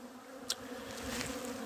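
Honeybees buzz faintly in a steady, low drone around the hives of a natural apiary in Lithuania, with one brief closer pass of a single bee.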